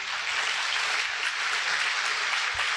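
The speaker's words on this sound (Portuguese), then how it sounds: "Aplauda bem forte ao Senhor." Loud, sustained applause from a church congregation fills the room evenly for a few seconds, dense and steady without pauses.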